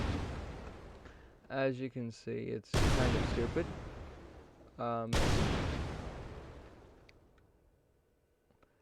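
Explosion sounds triggered on impact in a video game under development, two sharp loud blasts that decay into long rumbling tails, with a person talking in between and a glitchy tonal effect before each.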